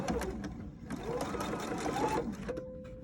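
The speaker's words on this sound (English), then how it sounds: "I'm gonna put it back in the machine. So now I'm gonna run down the other side of my pocket." Sewing machine running a quarter-inch seam down the side of a lined pocket, a fast buzzing mechanical run that slows and halts near the end, with a brief faint voice underneath.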